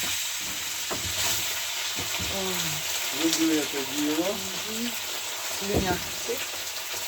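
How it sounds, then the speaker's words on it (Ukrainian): Fresh pork frying in a hot pan, a steady soft sizzle and hiss throughout with occasional stirring clatter, while someone speaks over it. "Зараз загружаємо нашу заготовочку. Зараз піде шкварчання."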